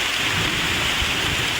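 Heavy rain with strong wind during a storm, heard from under a hut shelter in the Philippines; a dense, steady, loud roar of rainfall throughout.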